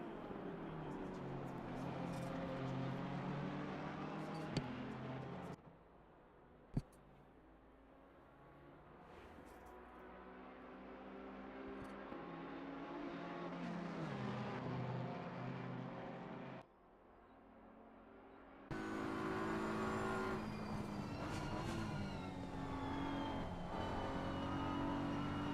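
Race cars lap Bathurst in a racing video game, a steady high engine drone with shifting pitch as the car accelerates and holds speed, loud and continuous, with sudden changes in engine tone.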